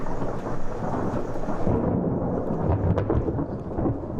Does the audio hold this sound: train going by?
no